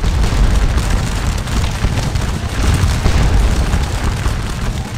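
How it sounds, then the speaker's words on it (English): Heavy musket gunfire pours from a farmhouse in the Waterloo battle game Scourge of War, a loud, dense rumble of overlapping shots and booms that never lets up. "they take heavy fire from the farmhouse"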